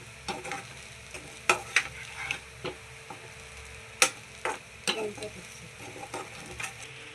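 Potato rice is stirred and fried in a pan, a low sizzle running under scattered sharp scrapes and taps of the spoon against the metal, close and moderately loud, with no talking.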